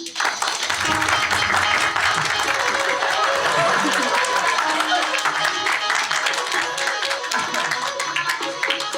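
An audience at a school class-project event claps steadily and loudly for students taking the stage to perform a Karagöz and Hacivat shadow-play skit. The dense, sustained clapping lasts about nine seconds and runs under a talking voice.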